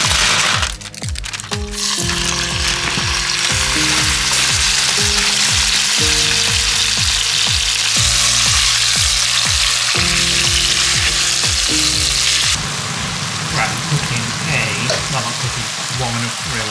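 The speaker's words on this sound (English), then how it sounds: "Garlic, chicken stir fry, Spanish garlic marinade." Garlic chicken stir fry with a Spanish garlic marinade frying in a pan: a loud, constant close-up sizzle with hiss and crackle, and a steady tonal hum running underneath throughout.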